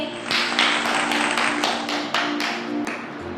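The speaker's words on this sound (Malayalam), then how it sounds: "യെസ് ഗൈസ്, ഒന്ന് കൈയടിച്ചേ" A small group of people clap their hands in a loose, uneven rhythm of about ten crisp claps over a steady background hum.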